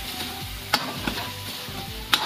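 Pista sausage for spaghetti sizzles steadily in a frying pan as it is stirred, with a couple of sharp utensil clinks against the pan.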